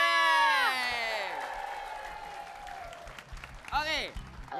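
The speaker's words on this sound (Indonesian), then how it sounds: "Aja tepuk tangan dulu dong." An audience at a live stage show applauds and cheers in a loud burst of clapping and whoops that fades, then rises briefly again near the end, with voices mixed in.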